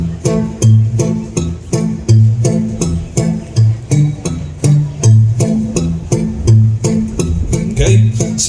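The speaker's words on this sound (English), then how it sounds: "I alternate between the bass strings" An acoustic guitar's bass strings are plucked with the thumb in a steady alternating pattern, low notes bouncing back and forth in an even rhythm with lighter treble touches above.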